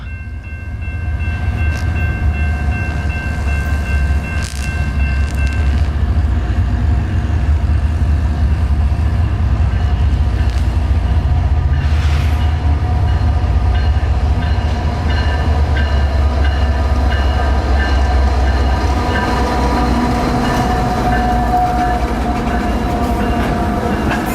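A freight train led by two GE locomotives rumbles past steadily and loudly for a long stretch, heavy engine drone with metallic squeals and clatter, no voices.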